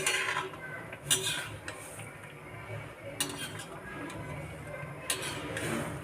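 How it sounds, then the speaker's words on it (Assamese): A spoon stirs a wheat flour snack mixture in a pot, giving soft scraping and a few sharp clinks against the pot, close by and fairly quiet. "এতিয়া এইখিনি অলপ লৰাই দিব ভালদৰে।"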